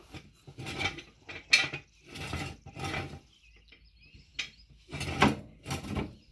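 A steel jack stand is set in place under a Mopar car during a lower ball joint replacement, giving a close series of metallic clanks, ratcheting clicks and scrapes in irregular bursts, with no talking.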